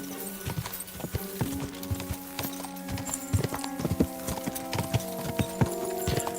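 Horse hooves clip-clop in an irregular, fairly close walking rhythm in the Kingdom Come Deliverance 2 video game, sounding over steady low ambient tones with no talk.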